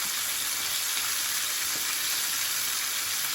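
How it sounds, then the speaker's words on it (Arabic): Fish dredged in flour mixed with a little starch fries in hot oil, giving a steady, close, dense sizzle and crackle that holds evenly throughout with no talking. "ما بيشربش زيت خالص السمك اللي انا بقليه ده"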